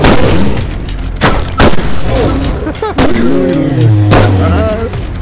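Flare guns fire in a Bigfoot hunting game, giving loud, sharp reports and booms amid the noise of the action. Several shots sound close, with players talking over them.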